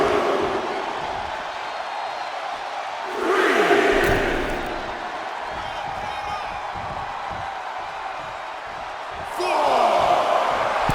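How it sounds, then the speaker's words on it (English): An arena crowd cheers in the 1995 WWF WrestleMania arcade game, a constant roar that swells loudly twice, heard close under a continuous backdrop of game noise. "And Hart is channeling the energy of this crowd"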